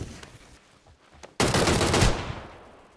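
Sudden loud burst of automatic gunfire in PlayerUnknown's Battlegrounds erupts after a quiet stretch, a dense rattling volley lasting about a second and then trailing off into fading echo.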